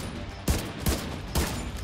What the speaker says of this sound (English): That's the pistol.